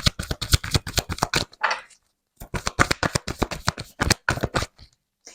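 Oracle cards from the Sacred Traveler deck shuffled by hand in two quick bursts of crisp, rapid riffling slaps, with a short silent gap between them and no voice.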